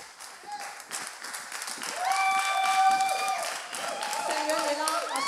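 An audience at a morning event applauds a speaker as he is welcomed onstage, a steady wash of clapping that swells and holds, with talk and other sounds layered over it.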